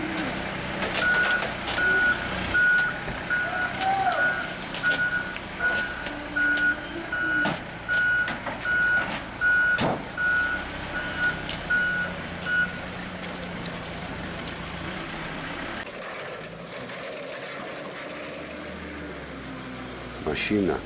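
A tow truck's reversing alarm beeps steadily in an even rhythm for about twelve seconds over a rumbling idle at a customs yard before a car is loaded, then stops while engine and mechanical noise continue.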